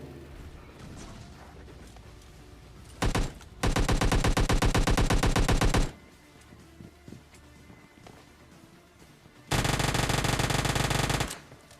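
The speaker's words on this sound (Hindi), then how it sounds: "मुझे फायरिंग की आवाज़ आ गई थी" Bursts of rapid automatic gunfire in PUBG Mobile Lite, two long sustained volleys separated by quieter movement and footstep-like sounds.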